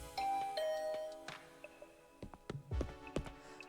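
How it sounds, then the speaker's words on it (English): A video game doorbell rings with a sustained electronic chime near the start, followed by scattered clicks and light footstep-like knocks in a quiet indoor scene. "After pressing the doorbell,"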